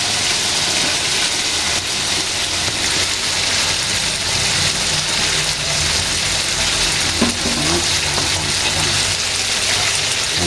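Chopped shallots and tomato hit a hot pan and fry, a dense, steady sizzle that holds loud and close the whole time.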